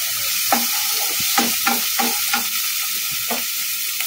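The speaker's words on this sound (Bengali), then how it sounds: "টমেটোটা একদম নরম হওয়া পর্যন্ত আমি নাড়াচাড়া করতে থাকি।" Chopped tomatoes sizzle in a pan for chicken tomato pasta while a spatula stirs them in quick, repeated scraping strokes over a constant frying hiss, close and fairly loud.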